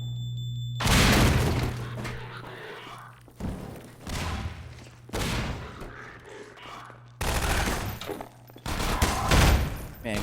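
Grenades blast in the Half-Life 2: Episode One video game, a series of loud, booming explosions with crackling debris and gunfire in between, spaced every second or two across the stretch.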